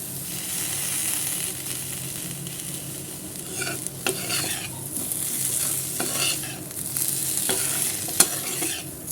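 Taro root fry (seppankizhangu varuval) stirred in a hot pan, continuous sizzling with intermittent scraping strokes of a spoon against the pan, close and steady.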